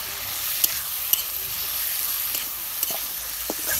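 Dried fish (shutki) frying in a pan as tomatoes go in, a steady soft sizzle with a few faint clicks of stirring, close and fairly quiet, no voices.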